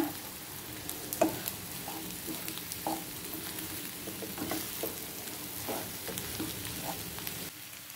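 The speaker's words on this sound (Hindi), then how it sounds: "आता भितर बारीक केल्लो बटाट घालता, ढवळून घेवया, बरें मिक्स करून घेवया।" Chopped potatoes for a Goan potato bhaji are stirred in a pan, a steady fry with scattered scraping knocks of the spoon recurring over about eight seconds, no voices.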